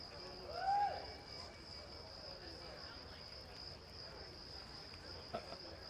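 Crickets chirp indoors in a faint, unbroken high trill that runs the whole time, with a brief soft sound near the start.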